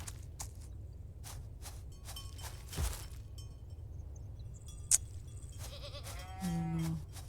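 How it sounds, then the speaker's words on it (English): Goats on a Farm Together 2 farm let out a drawn-out bleat near the end, over soft ambience with scattered clicks and a sharp tick or two before it. "And those are my goats."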